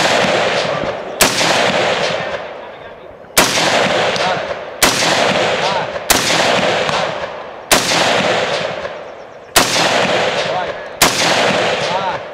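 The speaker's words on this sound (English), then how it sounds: "That's good shooting." Gunfire: eight loud, sharp shots ring out one after another at roughly even intervals, each with a long echoing tail that fades before the next blast, close to the listener.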